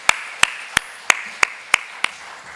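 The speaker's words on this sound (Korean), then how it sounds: "승리의 주님께 영광의 박수를 드리도록 하겠습니다." A church congregation at a Wednesday worship service claps in unison, seven crisp, evenly spaced claps roughly a third of a second apart, sharp and close against a quiet background.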